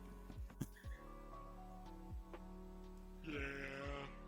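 A person imitates a goat's bleat with a series of wavering, nasal vocal cries, several short bursts and a longer quavering call near the end, close and fairly loud against a quiet indoor background.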